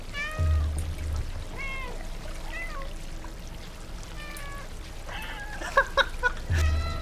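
Several cats meow in the video game Stray, a series of short rising and falling calls spread across the stretch, with a brief thumping low sound at the start and end and a few sharper clicks near the close.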